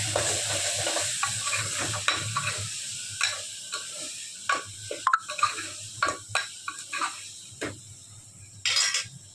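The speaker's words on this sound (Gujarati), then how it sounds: "એ સમારેલા ટમેટાં નાખીશું પછી એને બરાબર મિક્સ કરી દઈશું" Chopped tomatoes being stirred into a sizzling potato curry, with a fading fry hiss under a run of distinct spoon scrapes and taps against the pot, close and fairly loud.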